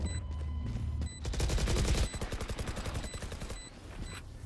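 Rapid automatic gunfire from the video game Valorant comes in loud, close bursts, with the shots clearly separated in an even rhythm. The firing starts at full force and then continues in shorter, slightly quieter volleys.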